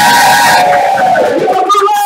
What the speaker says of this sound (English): let's give them a little bit more applause